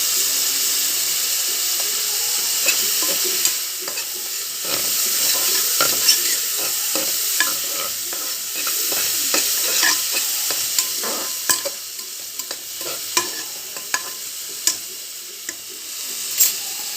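Vegetables sauté in an oiled pan for veg kurma with mint, curry leaves, coriander and turmeric, giving a steady sizzle broken by repeated clicks and scrapes of a spoon stirring against the pan.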